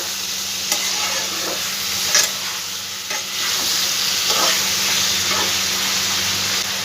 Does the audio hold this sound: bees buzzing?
no